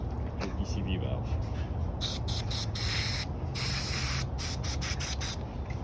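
Brake cleaner hisses in repeated bursts into the DCV valve of a 2010 Mitsubishi Galant engine during a tune-up, with short sprays and longer steady blasts over low background rumble.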